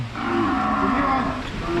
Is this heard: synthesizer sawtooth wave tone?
no